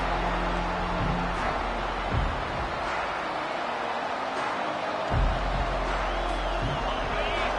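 A college football stadium crowd roars steadily as the defense takes the field after a punt, a dense, continuous wash of noise with a few louder swells and thumps rising out of it.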